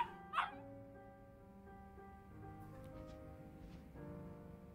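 A small dog in Yakuza Kiwami gives one short sharp yip or bark near the start, then whimpers and whines quietly over a low game background.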